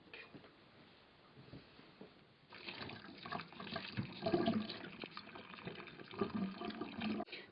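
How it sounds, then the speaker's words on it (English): Warm water from a tap runs into a sink to defrost a tin can. A faint start gives way to a steady, close splashing stream for the rest. "defrost this tin by using warm water in the sink"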